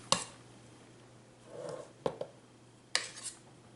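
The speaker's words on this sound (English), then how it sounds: "I'm just taking my cloth here, my dishcloth, and cleaning up the side" A dishcloth wiping the side of a freshly iced Halloween cake plate gives soft, close rubbing and a few sharp clinks of plate or utensils, with quiet pauses between strokes.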